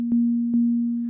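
Korg Volca Drum sine wave sound source played at a raised pitch: a steady, smooth pure tone holding throughout, with two soft clicking attacks about half a second apart, clean and alone.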